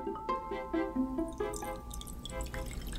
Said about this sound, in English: I'm going to fill it halfway up with water.